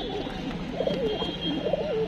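A released pigeon coos softly in repeated low warbling calls, fairly close, over a quiet background hum.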